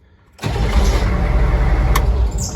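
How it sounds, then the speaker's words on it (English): A HMMWV M1114 engine in cold weather gives a loud, steady, low mechanical roar that starts abruptly and holds at close range, with a brief high tone in the middle and no voices. "now in cold weather, it's not gonna crank that good"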